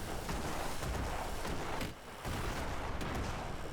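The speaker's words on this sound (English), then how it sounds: "It sounds like I've just heard an explosion on our side." Explosion aboard an airship in the Airships: Conquer the Skies battle game, a rough crackling rumble of blasts and fire that dips briefly midway before the loud, noisy din resumes.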